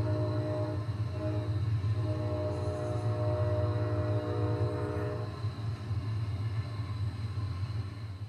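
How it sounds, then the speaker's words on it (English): A train rumbling along steadily with a deep continuous drone and sustained tonal hum, loud and close throughout without pause. "Let's run some trains"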